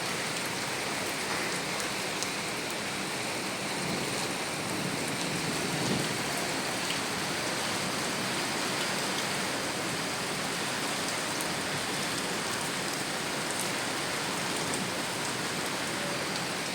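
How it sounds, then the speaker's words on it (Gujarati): Heavy monsoon rain in Rajkot pouring steadily onto surfaces, a dense, even hiss of drops that holds unchanged throughout with no voices. "તો વરસાદે ચાલુ થઈ ગયો છે ધમધોકાર"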